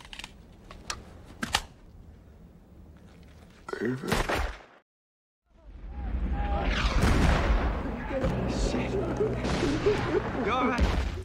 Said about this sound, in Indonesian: Manning terlihat mengokang Thompsonnya dan melesakkan peluru